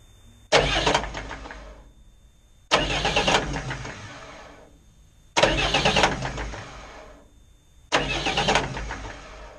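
A Cummins 6BT 5.9 marine diesel engine is cranked in four separate starting attempts, each a loud, close burst of cranking lasting a second or two and fading before stopping, with short quiet gaps between them.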